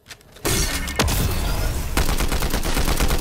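Rapid bursts of gunfire from a new weapon in the video game Fortnite, loud and dense, firing continuously after a brief quiet start with a sharp boom near the one-second mark.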